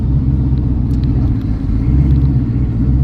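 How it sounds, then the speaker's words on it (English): A Chevrolet Caprice engine idling roughly, a loud, steady low rumble with a choppy, uneven pulse that runs continuously throughout, heard from close by with no talking. "you hear my Caprice just chop"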